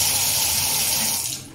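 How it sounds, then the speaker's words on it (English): Tap water pours steadily into an IKEA LANGUDDEN inset sink and down its LILLVIKEN drain and strainer, a close, continuous hiss and splash that fades slightly at the very end, with no talking. "that level is much too much water going down the drain too quickly"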